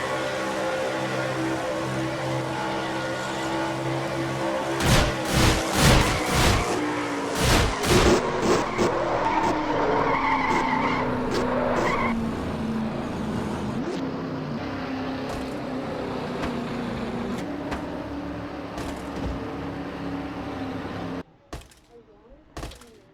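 A NASCAR race car in a video game at the Napa Know How 500 drones steadily at high revs, with engine pitch rising and falling and a burst of sharp crash impacts early on, continuing under an engine roar until it cuts out near the end.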